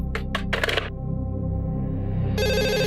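A telephone rings through a Hindi-language scene: a steady electronic ring tone starts near the end of the clip, following brief voices and a low background hum.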